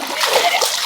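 A big fish thrashes in a fishing net in village waters, throwing up a short, close burst of splashing and splattering across a single second.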